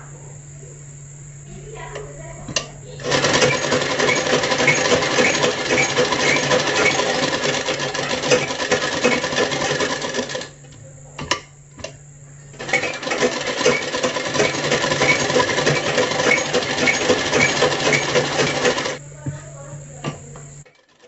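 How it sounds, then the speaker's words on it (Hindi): A sewing machine stitches blouse fabric in two long steady runs of several seconds each, separated by short pauses, close and loud with a constant motor hum. "अब इसे कपड़े पर रख के पहले सिलाई लगा लेंगे"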